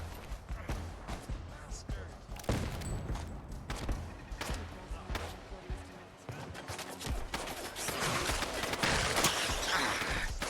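Gunfire in Fallout: London, with irregular thumping shots and impacts scattered through busy game noise while a voice talks over the action.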